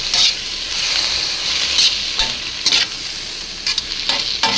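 Loud, steady sizzling of food frying in a pan for fried rice, with stirring scrapes and bursts of spatter rising over the constant hiss, close and without speech.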